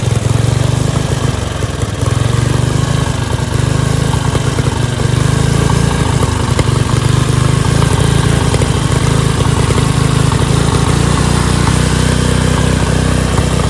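A Dayton 11HP lawn tractor engine revs high with a loud, constant, buzzing roar that holds steady throughout, close up and with no speech.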